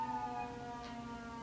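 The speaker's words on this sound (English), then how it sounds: "y'all know I live in the hood, so y'all gonna hear a lot of sirens." A faint, distant emergency vehicle siren sounds through a city neighborhood, a steady high tone that lasts about a second and a half.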